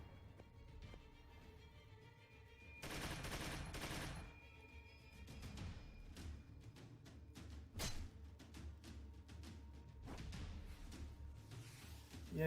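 Gunfire from an Overwatch shot in the turn-based video game Troubleshooter: bursts of sharp cracks and rattling volleys, with a dense loud spell of shots early on and scattered single reports after it over quiet game ambience.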